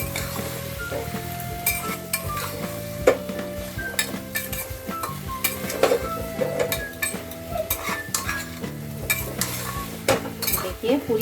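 A spiced brinjal mixture with Kashmiri red chili powder is stirred in a pressure-cooker pan, giving repeated scraping and clinking of a spoon against metal over a soft, steady sizzle.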